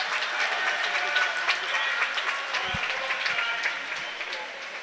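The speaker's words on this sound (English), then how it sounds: "applauding swimmers there" Audience applause ringing around an indoor pool at a university short course swimming championship, a steady wash of clapping that holds throughout with faint crowd murmur beneath.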